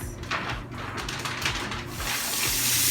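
King crab legs rinsed under a running kitchen tap before baking: a steady splashing water stream close by, with brief clatters of shell against the sink, swelling to a fuller gush near the end.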